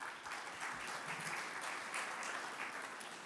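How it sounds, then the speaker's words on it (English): Applause from an audience at a presentation, a soft, distant, even wash of many clapping hands held throughout, with no talk over it. "Thank you for the applause"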